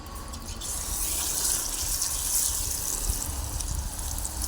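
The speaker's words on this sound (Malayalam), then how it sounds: "ഇനിയിപ്പോൾ ഇത് എണ്ണയിലേക്ക് ഇട്ട് കൊടുക്കാം" Coriander leaf bajji sizzle in hot oil, a dense, steady hiss and crackle that stays close and constant throughout with no voices.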